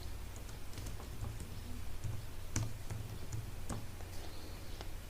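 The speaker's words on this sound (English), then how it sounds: "Here you can type the address, type the subject," Light, irregular typing on a computer keyboard fills the clip, with soft clicky keystrokes at close range over a faint steady hum, and no speech.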